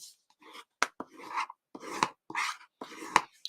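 A burnishing tool rubbed along a score line on paper for a craft kit, close dry rasping strokes in short bursts, about five or six rhythmic rubs separated by brief pauses, quiet and without talk.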